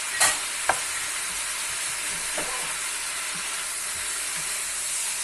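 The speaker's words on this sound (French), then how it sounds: "On va mélanger comme ça jusqu'à ce qu'on va voir que notre oignon, nos oignons, nos poivrons commencent un peu à se ramollir" Seasoned beef with onions and peppers stir-fries in a pan, giving a steady dense sizzling hiss with a couple of sharp utensil knocks near the start and soft stirring scrapes throughout, close and unaccompanied by talk.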